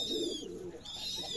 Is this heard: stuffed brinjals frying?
no